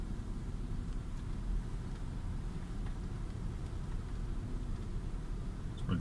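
A car engine idles low and steady in a stopped Atlanta traffic jam, a faint, even rumble inside the cabin with no voices.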